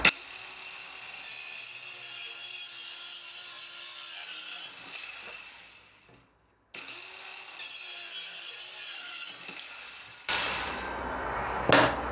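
A hobbyist DIY power saw cuts through scrap mahogany from an old table with a steady, loud whine, stops briefly, then runs again and ends on a harsher burst as the blade finishes the cut.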